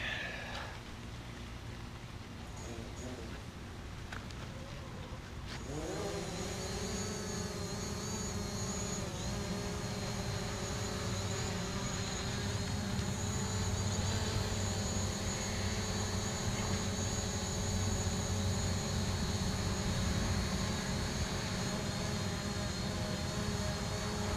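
A DJI Mavic Pro drone spinning up and lifting off, its high whining propeller buzz starting abruptly after a few seconds and then holding as a steady, close, insect-like drone with harmonic tones.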